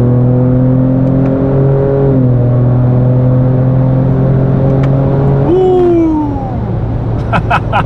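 A Ford Raptor pickup's engine pulls hard through its gears, its steady harmonic drone climbing in pitch, briefly dipping at each upshift, then resettling into a lower cruising tone near the end, loud and close throughout.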